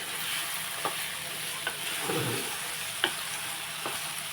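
Spoon stirring brinjal and mango curry in a pan, a soft steady sizzle with a few distinct scraping strokes and a brief clatter midway, no voices.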